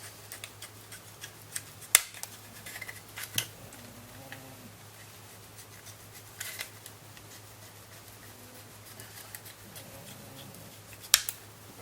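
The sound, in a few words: scissors trimming Stormtrooper armor plastic parts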